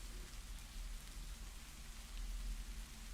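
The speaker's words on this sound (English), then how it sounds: "how's the rain in the background? Is it loud enough?" Steady rain falls as a soft, even background hiss with a low rumble underneath, unbroken and fairly faint throughout.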